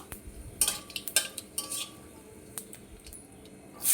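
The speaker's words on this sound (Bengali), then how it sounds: "তেলের মধ্যে দিয়ে দেবো তেজপাতা শুকনো লঙ্কা গোটা জিরে দিয়ে একটু নাড়িয়ে নেব" A metal utensil clinks and scrapes against a pan while bay leaf, dried chilli and whole cumin are stirred in hot oil for grass pea dal, making scattered, close, irregular taps with short quiet gaps and no talk.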